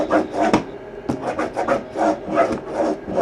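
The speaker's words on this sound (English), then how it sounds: "So I'm literally going to take the duct tape, lay it over there, burnish it on" Gorilla Glue duct tape is burnished onto masking tape with quick repeated rubbing strokes, a rhythmic close-up scuffing and rasping with no talk.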